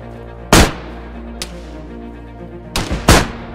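Shotgun blasts in the DayZ video game: one loud blast, a small crack, then a close pair of heavy booms near the end, each with a short decaying tail over a steady low hum.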